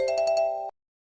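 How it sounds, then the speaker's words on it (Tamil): A mobile phone ringtone for an incoming call sounds in a tidy electronic pattern of four quick bright chimes over a steady tone, loud and close, then cuts off abruptly partway through. "டேய் சத்யா ஃபோன் பண்றாங்கடா, அட்டெண்ட் பண்ணி பேசுடா."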